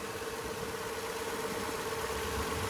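A 2021 Toyota Highlander XSE's 3.5-liter V6 idles with a steady, quiet, even hum and no voices over it.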